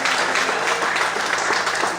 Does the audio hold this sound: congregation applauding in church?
yes